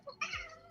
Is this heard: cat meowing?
yes